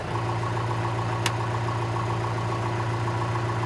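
A backhoe's diesel engine idles in a steady, loud, droning rumble that holds unchanged throughout, with one brief click partway through and no talking.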